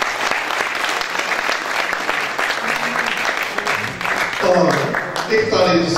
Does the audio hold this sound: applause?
yes